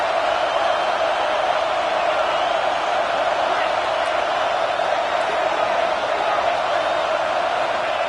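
A stadium crowd at a football game cheers as the defense holds in the red zone, a dense, loud roar that stays steady and unbroken throughout.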